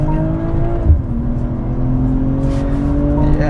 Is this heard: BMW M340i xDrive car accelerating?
yes